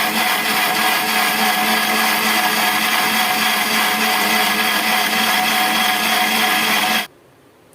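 A mixer grinder whirs loudly and steadily for several seconds, grinding garlic chutney with chilli powder with a dense roar, then switches off abruptly into near silence.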